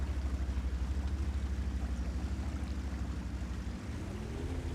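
A tank with a damaged engine churns slowly through swamp water in World of Tanks, giving a steady low engine rumble mixed with sloshing water. Near the end the drone briefly dips and then shifts in pitch, and no one talks over it.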